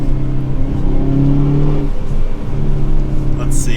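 A 2022 Hyundai Veloster N with a six-speed manual gearbox accelerates hard on a mountain road, its engine note climbing in a loud interior drone, dipping at a gear change and rising again.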